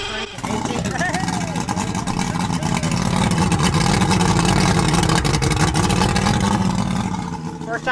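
An old boat engine, left rotting for 18 years, turns over and fires up, running loud and steady with a coarse rumble throughout, while people speak over it.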